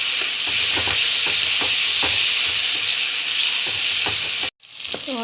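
Onions and ground spice paste of cumin, ginger, garlic and chillies frying in a pan: a loud, steady hiss with light stirring taps, then a short cut, then the sizzle again.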